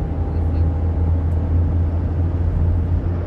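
Tata Punch car cruising in fourth gear, a steady low engine hum and road rumble heard from inside the cabin, even and continuous with no speech.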